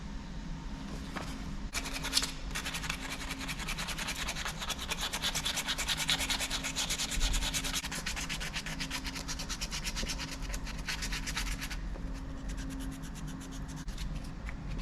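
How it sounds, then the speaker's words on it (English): Hand sanding the handle of a hand-forged Damascus curved Bowie knife, continuous rapid back-and-forth rubbing strokes close up at an even rhythm, with no talking. "We're going to be hand sanding this handle first."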